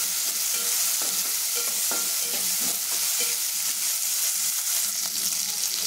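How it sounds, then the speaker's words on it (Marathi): Chopped tomato, carrot and peas fry with onion in a pan, giving a close, constant sizzle with rhythmic spatula stirring and scraping and no talking. "हे टाकून आपल्याला फ्राय करायचे।"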